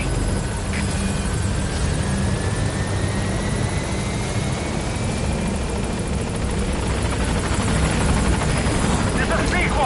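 In the Metal Gear Solid V video game, the Pequod helicopter arrives at a landing zone with a loud, continuous rotor thump and engine roar that stays close and steady throughout.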